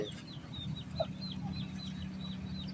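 Soft, repeated clucking from chickens over a steady low rumble, with a few brief higher calls scattered through.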